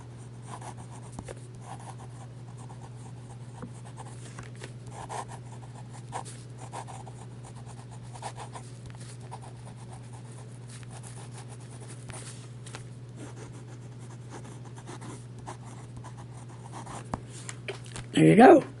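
A vintage Sheaffer school pen scratches across paper in quick, faint, irregular strokes over a constant low electrical hum, with a louder rustle at the very end.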